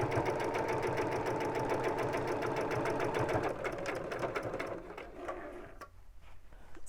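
A sewing machine stitches fabric seams for a bell pull with a fast, even mechanical rattle that is close and loud, then slows and stops near the end.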